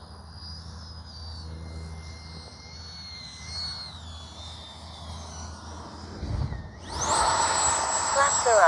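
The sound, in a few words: Freewing 80mm F-22 Raptor RC jet flying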